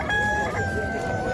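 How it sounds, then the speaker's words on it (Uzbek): Near, loud rooster crowing at an outdoor poultry market in Namangan where breed chickens are sold, a single drawn-out crow filling the short moment over a busy background. "Xo'roz o'zimizniki."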